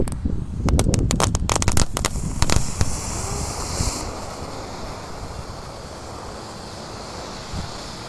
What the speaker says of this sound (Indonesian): di sini ada gangsing super 3 warna. Kita nyalakan 1 pak guys